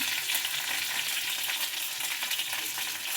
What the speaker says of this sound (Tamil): நல்லா அப்படி வதக்கி வச்சு நல்லா குழம்புல சேர்த்துடலாம்